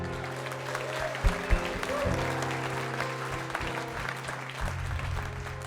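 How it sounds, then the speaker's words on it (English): Audience applause for the staff of a radio station, a steady wash of many hands clapping, with a hum and voices underneath. "What a big round of applause for all of them."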